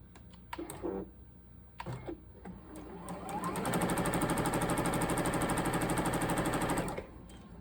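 A sewing machine stitches quilt triangles for a St. Louis Star block in a loud, steady, rapid run lasting about three seconds, preceded by a few soft handling clicks and taps of fabric.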